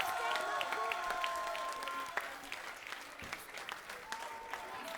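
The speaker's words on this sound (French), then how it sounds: "On peut les applaudir bien fort." Audience applause at a summer show in Camphin-en-Pévèle, a steady wash of clapping with scattered cheers and whistles, some voices mixed in as it carries on throughout.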